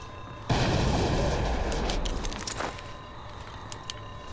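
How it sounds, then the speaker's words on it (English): A gas grenade bursts with a sudden loud boom and a long hissing roar that slowly fades in Splinter Cell Blacklist multiplayer, followed by a few faint clicks and pops. "I threw a gas grenade up there to try to stop him out."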